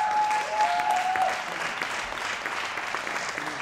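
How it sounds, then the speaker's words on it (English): Audience at a spoken word poetry event in Rwanda applauds a young performer, a steady dense clapping throughout with a brief whistle near the start. "Let's give him a big round of applause."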